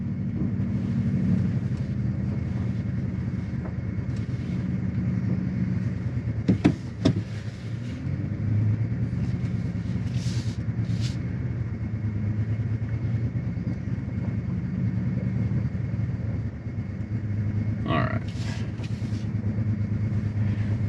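A 2024 Toyota Tundra TRD Pro crawling in 4 low with the rear locker engaged, its engine a steady low drone under continuous road and cabin noise, with a few brief knocks and clunks partway through.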